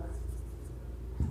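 Writing on a board during a chemistry lecture on alcohols: a brief, steady scratchy scrawl, fairly close, ending in a firmer tap of the chalk or marker.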